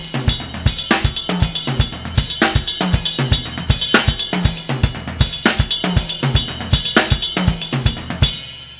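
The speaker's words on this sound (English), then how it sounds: "this even sounds good on the ride cymbal" A ride cymbal plays a Latin triplet groove with a steady shimmering ping under regular low drum hits. The full drum pattern rolls on evenly and loudly with no voice.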